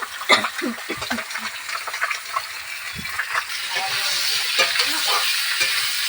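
Potatoes and vegetable stems frying in hot oil give a loud, continuous sizzle that thickens into a steady hiss, with stirring noises and some voice sounds near the start.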